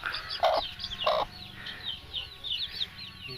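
A hen gives two low clucks while chicks peep in quick, high chirps throughout, fairly close.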